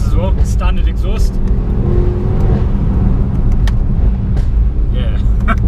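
A 2018 Mercedes-AMG E63 on its standard exhaust roars loudly up close, with sharp gunshot-like pops and crackles snapping over the engine drone while a voice talks over it.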